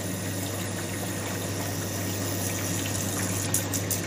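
A pump runs steadily with water flowing over a cascade, a constant low hum beneath a continuous splashing wash, close and even throughout, with a few faint clicks near the end.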